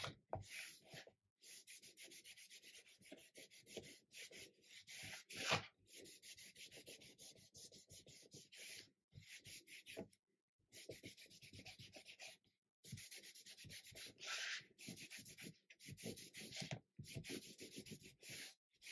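A leather piece is rubbed by hand on its back side and smooth front side, making a close, soft, rapid scuffing and brushing in repeated bursts with short pauses, quiet overall and with no talk.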